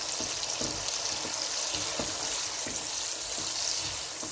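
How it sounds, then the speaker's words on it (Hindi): Okra with masala being sautéed in a pan, a continuous close sizzle with regular stirring scrapes of the spatula every half second or so, no voices. "अब इसको 2-3 मिनट के लिए अच्छी तरह इनको भूनना है कि मसाला कच्चा ना रहे।"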